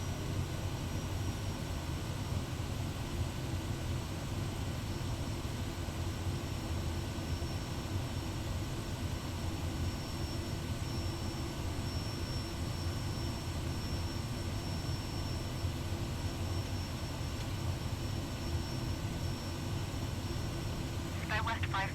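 A Kodiak 100 turboprop engine throttled back in Microsoft Flight Simulator, a steady droning hum with a constant tone that carries on unchanged from start to finish.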